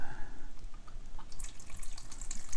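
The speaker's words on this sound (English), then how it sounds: "We're gonna release some of this warm water on there and see if this car does change colors." Warm water runs from a toy Hot Wheels car wash onto a color-changing toy car, a close, steady trickle and splash like a small tap filling a sink, with no talking.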